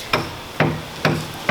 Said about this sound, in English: The man here is chipping the dried concrete off the